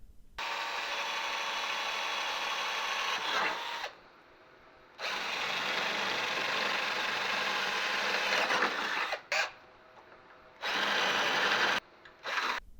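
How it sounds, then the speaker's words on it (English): An 1/8 inch drill bit bores a pilot hole in the core support of a Chevrolet Astro, the drill whirring close and steady in several runs separated by short stops. "starting with the 1/8 inch drill bit, I'm going to make the first hole"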